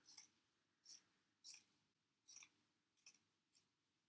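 Scissors snip through a sock for an Easter bunny craft in about seven short, crisp cuts with brief pauses between them, close and fairly quiet with no talking.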